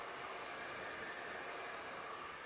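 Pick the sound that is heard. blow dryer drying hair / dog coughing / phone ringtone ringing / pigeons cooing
blow dryer drying hair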